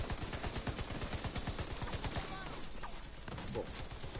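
Rapid automatic gunfire in The Division 2, a fast, loud stream of shots in the first half that thins into scattered bursts, with brief voices mixed underneath.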